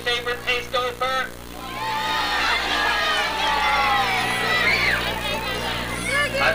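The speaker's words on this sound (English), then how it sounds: "The crowd is beginning to cheer for their favorite pace gopher." A crowd cheers and shouts at a gopher race at a 1987 rattlesnake festival in San Antonio, with a few sharp calls first and then a sustained roar of excited voices and children's shrieks that swells and holds.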